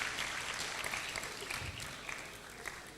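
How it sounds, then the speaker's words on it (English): Steady applause fills a university matriculation ceremony hall as the audience claps for an honoree standing for recognition, a dense, continuous patter of many hands at moderate distance throughout. "Please give him a round of applause."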